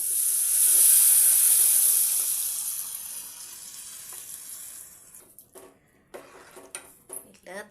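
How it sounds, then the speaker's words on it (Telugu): Hot tempering of onion, cumin and turmeric is poured into buttermilk for majjiga charu. A loud sizzling hiss bursts out and slowly fades over several seconds, followed by scattered clinks and scrapes of utensils. "అన్నీ కలిపి పెట్టిన సల్లను తాలింపు పోసుకోవాలి."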